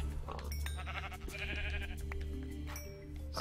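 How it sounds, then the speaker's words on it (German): Sheep bleating in the Minecraft video game, a couple of wavering bleats over steady game background sound, fairly quiet with no talk. "Da ist ein Schaf."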